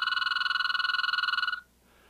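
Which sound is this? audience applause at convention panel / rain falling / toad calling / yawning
toad calling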